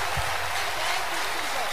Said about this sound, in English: I feel like clapping to the Lord.